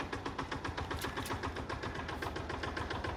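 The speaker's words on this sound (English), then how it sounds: "Probably should have turned that tractor off because it was a little bit noisy." A tractor engine in the farming video game Farming Simulator 22 runs steadily at idle, with a continuous rhythmic mechanical throb and rattle and no talk over it.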